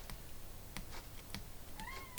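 A cat lets out a clear rising meow near the end, following a few soft clicks and rustles in a quiet indoor room, with no voices.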